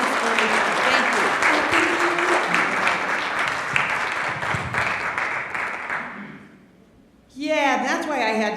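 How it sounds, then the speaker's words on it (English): Loud audience applause rolls on for several seconds, fades away, and then a voice starts talking. "I want to give her a round of applause"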